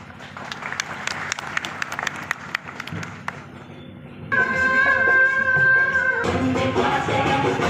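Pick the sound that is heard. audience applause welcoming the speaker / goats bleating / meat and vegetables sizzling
audience applause welcoming the speaker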